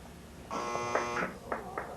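A harsh electronic quiz bowl buzzer sounds once for under a second, followed by a few short voice-like bursts.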